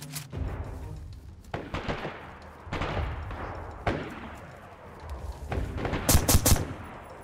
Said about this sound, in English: Please, stop shooting him.